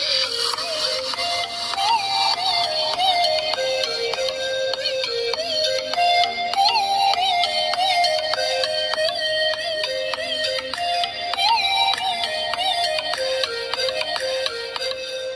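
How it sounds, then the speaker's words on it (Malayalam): A melodic ringtone plays through an Honor X8 phone's built-in speaker, a looping electronic tune of bright chiming notes that continues steadily for about fifteen seconds with no talking. "ഇനി നമുക്ക് ഫോണിലെ സൗണ്ട് ക്വാളിറ്റി ഒന്ന് ടെസ്റ്റ് ചെയ്ത് നോക്കാം എത്ര ഉണ്ടെന്ന്."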